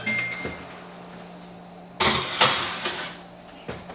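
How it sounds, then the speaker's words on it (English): An oven door bangs shut as a prime rib roast goes in, a sharp clatter followed by a short rattle and a smaller knock, close by over a steady low hum. "So I'm going to go ahead and stick it in the oven."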